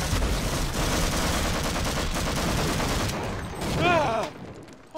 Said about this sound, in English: people are shooting at you inside a ventilation shaft